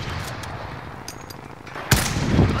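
Gunfire in Call of Duty: Modern Warfare, a steady low rumble of rapid distant shots with one sharp loud burst near the end and heavier blasts following.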